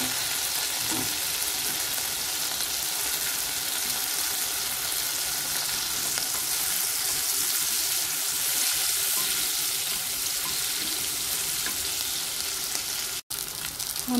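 Chili peppers frying in ghee for white rice, a steady close sizzle with crackling hiss running throughout and no talk, briefly cut near the end.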